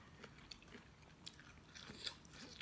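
Quiet, close crunching bites and chewing of raw papaya salad, several crisp snaps in uneven rhythm, faint and intimate with no voices.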